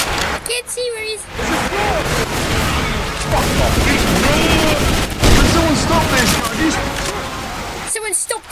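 Dense, sustained gunfire and explosions from a rainy video game campaign battle, loud and continuous with bursts of automatic fire and booms, while players shout briefly near the start and end.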